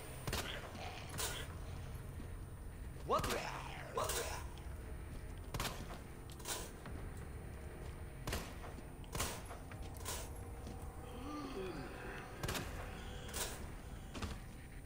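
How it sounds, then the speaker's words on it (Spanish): Gunshots ring out in the video game Resident Evil 2, several sharp separate shots spaced irregularly over a low ambient background, fairly quiet and distant in the mix. "Ahí está, cuatro disparos."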